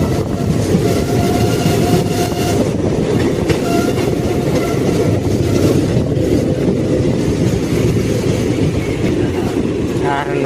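Barbil Express train rolling along the rails near a station, a loud, steady rumble with clickety-clack from the wagons throughout, and faint voices now and then beneath the noise.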